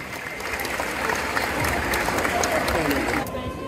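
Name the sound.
festival audience applauding cosplayers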